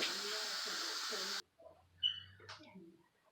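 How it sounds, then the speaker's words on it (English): Steam vents in a loud, steady hiss from the pressure release of a power pressure cooker making beef and cheese enchiladas, lasting about a second and a half before cutting off abruptly, followed by quieter kitchen clatter. "when you release the pressure on the power pressure cooker, use something, don't go doing it with your hand because that vapor will burn your hand."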